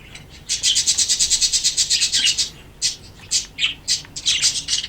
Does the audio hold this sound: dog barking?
no